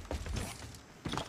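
A gas trap is placed in Apex Legends, a short mechanical clunk and creak with rattly metallic detail, two brief bursts at moderate loudness.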